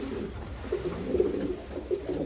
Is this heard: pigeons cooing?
yes